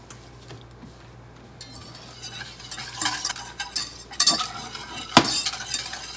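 A utensil stirring brown butter in a pan, scraping and clinking against the metal over a soft, steady sizzle, starting quiet and growing busier with sharper strokes toward the end, with no talk.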